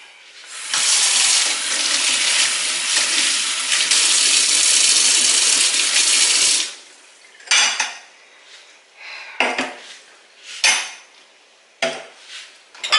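A kitchen sink tap runs in a steady loud stream for about six seconds while washing up at a newly fitted sink, then stops, followed by scattered clatters and clinks of dishes and cutlery.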